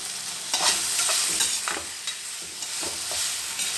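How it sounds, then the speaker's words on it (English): Peppercorns and fenugreek seeds are dry roasted and stirred in a kadai, giving soft scraping and rattling strokes at an irregular rhythm over a faint background hiss, close up and without talk. "You have to dry roast in a kadai, and then you have to make a powder out of it."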